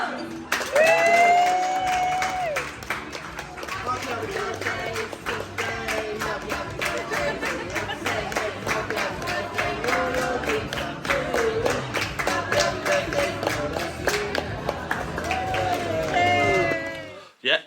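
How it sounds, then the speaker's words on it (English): A restaurant crowd claps steadily for about seventeen seconds for a birthday, dense and close, with voices chattering and calling out underneath in a busy indoor space. "Can we go round for applause?"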